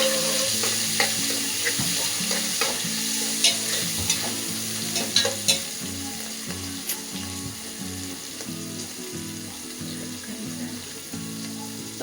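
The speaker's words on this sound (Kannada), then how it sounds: "ಪನ್ನೀರ್ನ ರೋಸ್ಟ್ ಮಾಡ್ಕೊಳ್ಳಿ." Paneer roasting in a pan, a continuous sizzle punctuated by repeated rhythmic scraping and clattering of a spatula against the pan throughout.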